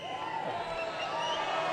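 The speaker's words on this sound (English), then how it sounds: "here comes shirt 7 to a good hand from the crowd" An arena crowd at a college basketball game, Fairfield Stags at NC State Wolfpack, cheering and applauding as a player comes out, a steady wash of distant cheers and whoops under a faint commentator's voice.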